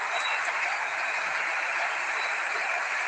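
Football crowd at the Argentina vs Iceland match, a dense, steady roar of cheering and clapping heard at a constant loud level throughout.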